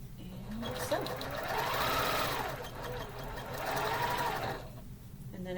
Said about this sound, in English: I'm just going to take a few stitches and then nest these up